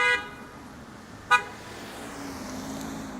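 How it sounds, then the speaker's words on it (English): A car horn honks at an Uber driver parked in a bad spot on a Toronto street near Casa Loma: two short, sharp blasts, one at the start and one a second later, over a steady hum of passing traffic. "that Uber driver gets honked at for parking in a stupid spot"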